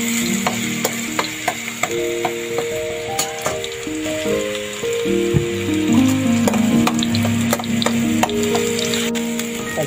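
Chicken pieces frying in hot coconut oil with curry leaves, a continuous close sizzle and crackle with occasional scraping and clinking of a utensil against the pan, fairly loud throughout.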